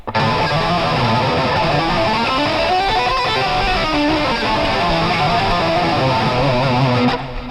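An electric guitar played through distortion on a live stream, a loud, dense sustained wall of overdriven notes and runs that fills the whole stretch without pause before cutting off abruptly.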